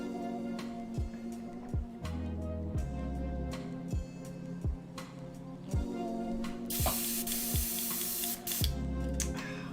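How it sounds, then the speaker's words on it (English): A poor-quality airbrush sprays paint onto a miniature in short, hissing bursts broken by small clicks, with a longer, louder spray near the end, all close and without talk. "And my airbrush is trash, but we can, like, shout out to trash, but we can try"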